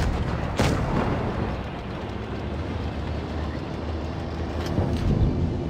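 Tank cannon fire in World of Tanks Blitz, a Chieftain Mk.6 putting shells into a Maus: a sharp, loud shot early on over a dense rumbling engine bed, with a couple of fainter blasts later.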